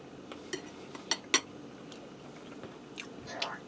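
Buttery corn is eaten with cutlery, with a few quiet clinks and scrapes of utensils against a plate and soft chewing, close and sparse over a low background.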